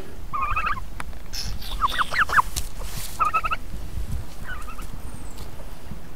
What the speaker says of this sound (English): Let's leave the chickens out here.